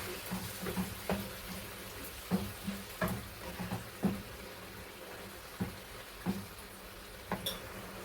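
Boneless chicken curry in a pan with hot water added, bubbling and simmering softly, with faint irregular pops and small clinks recurring throughout and no speech.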